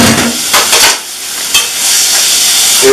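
Tomatoes tossed into a hot pan of beans seasoned with pepper and dried spices, giving a loud hissing sizzle with stirring clatter that swells, dips briefly, then settles into a steady fry.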